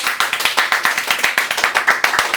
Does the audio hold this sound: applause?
yes